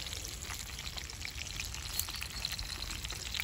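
Duck meat frying over an outdoor campfire on a spring hunting trip, a steady crackling sizzle with scattered pops and snaps, close and continuous throughout.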